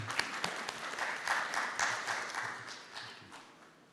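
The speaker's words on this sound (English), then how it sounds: "Can you give him a round of applause, please?" An audience at a day-two session on collaboration between SADC institutions claps for a presenter taking the floor, a moderately loud patter of individual claps that swells briefly and then tapers off over a few seconds.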